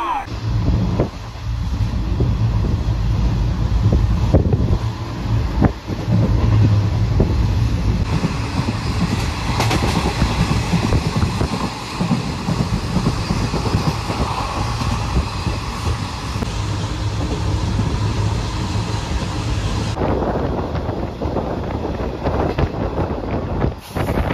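A mostly empty Krishnanagar local train running towards Naihati, with a steady loud rolling rumble, wind buffeting, and rattling of the carriage, while a voice talks over it.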